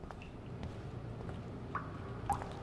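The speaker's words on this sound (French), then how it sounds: "Le robinet." Water drips from a tap in the video game Life Is Strange: a few sparse, clear drops land over a low, steady background hum, with a brighter plink near the end.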